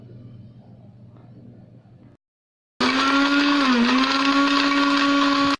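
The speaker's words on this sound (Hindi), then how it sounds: "चारकोल को हम ग्राइंडर में डालकर" After a low, quiet stretch and a short silence, an electric grinder grinding charcoal into powder starts up loud and close, holding a steady high whine with a slight dip in pitch.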